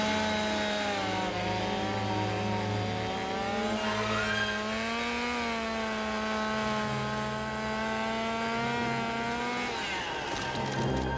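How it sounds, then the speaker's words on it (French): Chainsaw cutting down a tree, a loud, sustained engine whine that rises and falls as the blade bites into the wood, close and continuous with no talk. "Je vais scier l'arbre."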